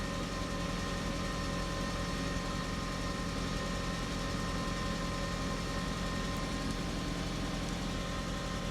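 A 1999 Audi S3, just restarted after a faulty crankshaft position sensor, idles steadily with a constant low engine hum and vibration, close by and unchanging throughout.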